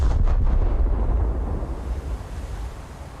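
Leftover torpedoes detonating against the battleship Scharnhorst in a naval combat game: a heavy, rumbling blast that opens loud and rolls away into a long, surging low roar resembling churning water.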